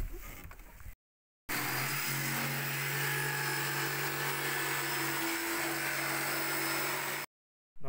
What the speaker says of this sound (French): j'entends la scie sauteuse, c'est que là il y a un projet de découpe